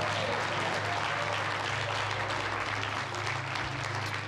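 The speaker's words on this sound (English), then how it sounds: "give the Lord a big hand clap of praise" A church congregation claps in praise during a Wednesday worship service, a dense, steady roomful of hands sustained for several seconds with a low hum underneath.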